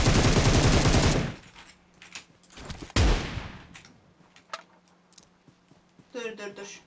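Automatic gunfire bursts in the mobile battle royale game PUBG Mobile, a dense loud volley at the start, then another short burst and scattered single shots and clicks, with someone talking over parts of it.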